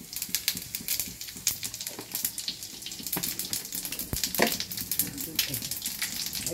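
Cumin seeds and a bay leaf frying in hot oil for a Bengali banana-flower dish, giving a steady, close crackling sizzle with scattered sharper pops throughout.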